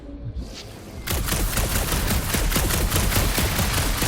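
Gunfire in the video game Marvel's Guardians of the Galaxy breaks out after a quiet moment, becoming a loud, continuous barrage of rapid blaster shots and booming impacts, with no talking.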